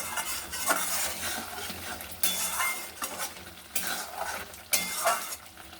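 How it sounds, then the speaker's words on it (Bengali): Spices and salt sizzle in a pan as a spatula stirs and scrapes them, with repeated bursts of scraping and clinking against the metal over a steady frying hiss. "লবণ দিয়ে ভালো করে মশলাটাকে কষিয়ে নেব।"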